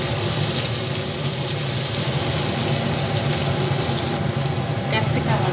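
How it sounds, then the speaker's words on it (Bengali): Capsicum and onion fry with Kashmiri chilli powder in a hot pan, giving a loud, steady sizzle that runs without a break the whole time. "একসঙ্গে ভালোভাবে ক্যাপসিকামটা এবার ভেজে নিচ্ছি।"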